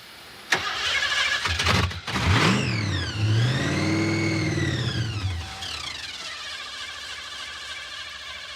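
A Ford Thunderbird engine cranks on and on in 9-degree cold without catching, the starter's loud, wavering whine rising and falling close by for several seconds before easing to a lower steady drone.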